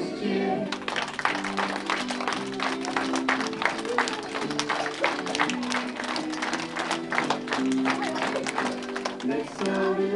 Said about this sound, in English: Let's all do a little clapping